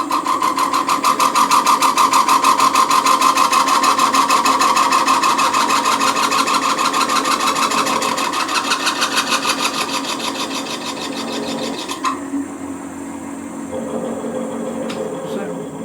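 A reamer grinds rhythmically through the bushing bore of a BSA rocker cover, a loud close rasping scrape with a steady repeating pulse that slows, then tapers off into a lighter, quieter scraping.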